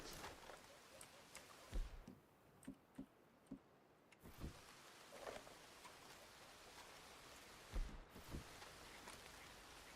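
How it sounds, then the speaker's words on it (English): Soft, steady rain patters with scattered drips and occasional faint clicks, quiet and even throughout. "Ooh, and it's raining."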